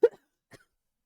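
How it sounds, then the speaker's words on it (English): A single short cough followed by a fainter second one, isolated against silence. "Still coughing, as you can see."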